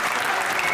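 Studio audience applause on a Hindi comedy show, a dense, steady wash of clapping filling the whole short stretch at even loudness with no voices.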